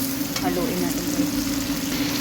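Meat sizzles steadily in a hot pan while being stirred, a continuous close frying crackle with a faint scrape of stirring and no talk.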